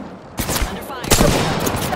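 Gunfire in the video game Apex Legends, a burst of shots that erupts after a quieter start and keeps a loud, dense clatter going to the end, with a voice heard briefly among the shots.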